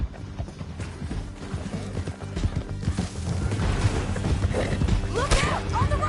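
Horses gallop in the Red Dead Redemption 2 video game, their hooves drumming in a fast, continuous clatter with crashes and voices shouting over the ride.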